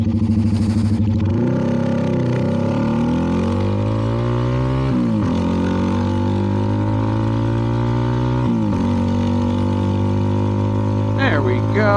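A CFMoto 300NK motorcycle fitted with a KO exhaust rides along, its engine note close and loud, climbing in pitch through several gears with brief dips at each shift.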